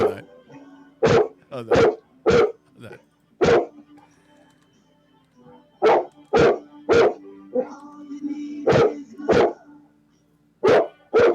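A dog barks in sharp, loud single and doubled barks, spread irregularly with pauses of a few seconds between them, over a faint steady hum.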